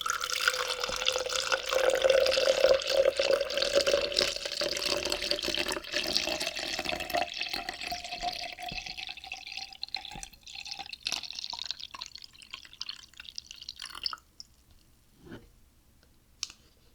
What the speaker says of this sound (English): why don't you go ahead and pour me another cup?